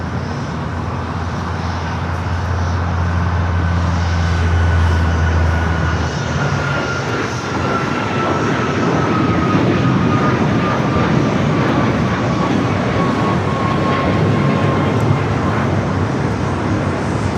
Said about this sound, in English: This is a Gulfstream G550.